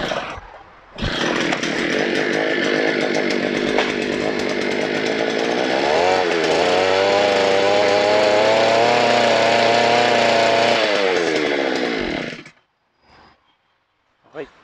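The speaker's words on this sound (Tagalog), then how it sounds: "Testingin ko po muna tong earth auger po ninyo." A 63cc two-stroke gasoline earth auger, a ground drill for digging into soil, starts up and runs loud and close for about eleven seconds with a steady buzzing roar and a brief pitch rise midway, then cuts off abruptly into near silence.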